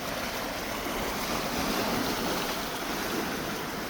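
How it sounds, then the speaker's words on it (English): Surf rolls onto the shore at Crescent Beach, BC, on an empty November day as a steady, broad wash of breaking water with a constant hiss, some wind in the background, and no voices. "I'm at Crescent Beach today"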